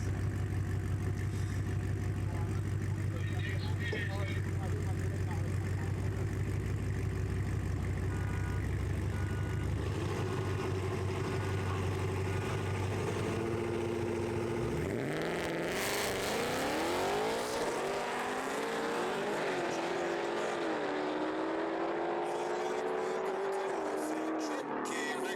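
A KMR Ford Mustang and another no-prep drag race car at a drag strip, a loud, throbbing idle that erupts into a roaring launch, with the engine pitch climbing through the gears as the car pulls away.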